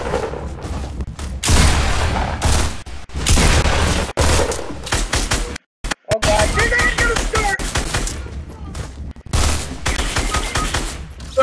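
Rapid bursts of automatic gunfire and booming shots from the Fortnite Battle Royale video game, loud and close, with a brief silent gap midway and a voice occasionally heard under the shooting.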